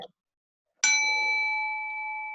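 Meditation bell struck once during an online Gurdjieff group meeting, a clear bright ring that rises sharply after a brief pause and then sustains with a long, slowly fading shimmering tone.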